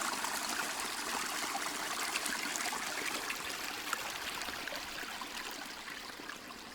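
Steady babbling of spring water, a continuous close trickle and splash with no voices, constant in level throughout.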